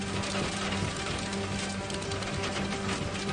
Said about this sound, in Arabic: يشهد مركز المحاني الشمالي محافظة الطائف وقراه هطول أمطار غزيرة سببت الفيضانات